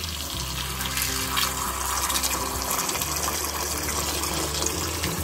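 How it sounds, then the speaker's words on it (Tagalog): Tap water runs steadily and gushes into a container to make brine for homemade kosher cucumber pickles. The rushing flow is close and even throughout. "Tubig."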